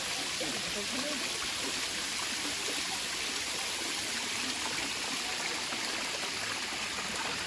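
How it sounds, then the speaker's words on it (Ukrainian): Water from a small fountain runs and splashes steadily down a wall at a sanatorium, a continuous bright trickling rush close by, with no voices heard. "І тут прям вода біжить по стіні."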